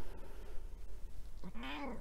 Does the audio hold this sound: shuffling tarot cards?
no